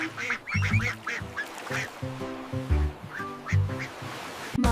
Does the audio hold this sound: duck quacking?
yes